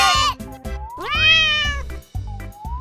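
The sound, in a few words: cat meowing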